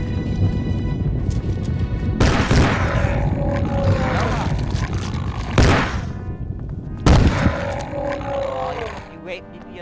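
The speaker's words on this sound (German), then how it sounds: "Oh, ein Schuss!" A gunshot fires in the survival-horror video game Obscure, a sharp broadband blast standing out over dense game sound and ambience, with a second similar loud burst a few seconds later.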